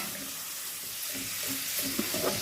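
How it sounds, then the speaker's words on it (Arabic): Meat sautéing in a pan with a spice mixture for a green bean dish, a soft steady hiss of frying with a few faint stirring knocks, moderately quiet and close. "خلي بقى اللحمه براحتها تتشوح خالص اهي"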